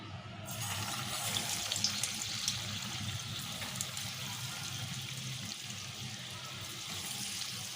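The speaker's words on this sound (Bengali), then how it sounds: "এবার আমি এগুলো তেলে একটা একটা করে ছাড়বো।" Chicken nuggets fry in medium-hot oil, a steady, fairly faint bubbling hiss that continues without pause.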